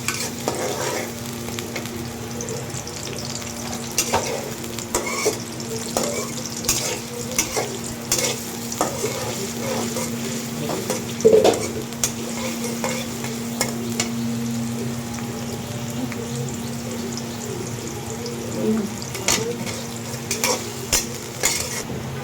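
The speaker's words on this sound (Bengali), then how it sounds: "তেল গরম হয়ে গেছে, পেঁয়াজ দিয়ে দিলাম, পেঁয়াজ কাঁচামরিচ দিয়ে দিলাম" Onions and green chilies hit hot oil in a pan, giving a loud, continuous close sizzle with scraping stirs and occasional clinks of a utensil against the pan, no voices.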